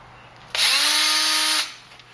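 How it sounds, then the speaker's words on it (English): A power drill bores into a closed-end handguard end weight clamped in a vise, giving one loud, steady whine of about a second with a rising pitch at the start and an abrupt stop. "You have to drill it."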